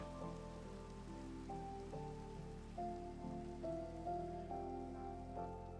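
Rain falls in the video game Minecraft as a steady, even hiss that fills the whole stretch, with soft stepped melodic tones over it and no talking.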